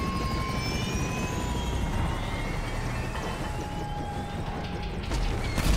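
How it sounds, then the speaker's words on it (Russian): A helicopter in the video game GTA 5 keeps up a loud, continuous rotor and engine drone the whole time, with faint whining tones drifting above it and no voices. "Вертолет. Как они задрали."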